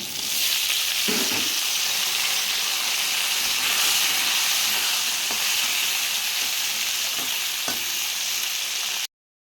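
Pointed gourd and potato frying in oil in a pan, giving a steady, loud sizzle and hiss throughout with a few faint stirring knocks, no voices.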